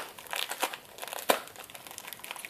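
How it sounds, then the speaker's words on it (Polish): Scissors cut open a plastic blister pack up close, with loud crinkling and crackling plastic and a few sharp snips and crunches over a couple of seconds. "Otworzę sobie nożyczkami."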